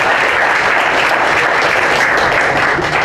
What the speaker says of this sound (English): So round of applause for